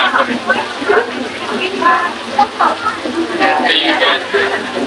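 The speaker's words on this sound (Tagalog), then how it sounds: "Lakas pa rin ang ulan." Heavy rain pours down at Merlion Park in Singapore, a steady broadband hiss of drops on surfaces heard close up while people talk over it.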